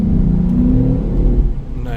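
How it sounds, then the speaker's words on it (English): A 2005 Jeep Grand Cherokee with oxygen-sensor heater fault codes accelerates on the road, its engine a steady, loud, low drone from inside the cabin that eases slightly near the end. "Alright, so I got the car on the road, let's give it some acceleration."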